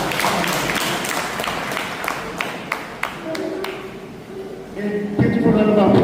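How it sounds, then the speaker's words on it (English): An audience at a Harvarde College Abeokuta event claps after a speech: scattered, uneven claps at first, building into fuller applause, with voices mixed in toward the end. "A beautiful round of applause once again for that wonderful speech"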